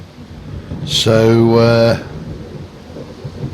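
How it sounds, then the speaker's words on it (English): Thunder and steady rain at night in the TerraFirmaCraft mod for Minecraft, a low rumbling wash with a louder swell near the middle, while a voice speaks briefly over it. "it's night time, it's raining and it is thundering"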